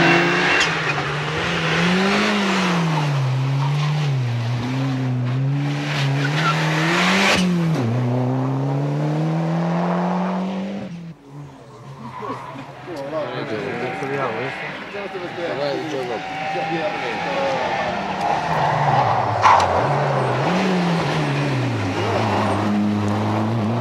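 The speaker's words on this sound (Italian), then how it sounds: "Nella prova si ferma anche Fassitelli con il differenziale della Opel Astra rotto." Rally cars race on a special stage of the 1994 Rally di Messina, their engines revving and rising and falling in pitch as they pass, loud and close, with a voice talking over them for much of the time.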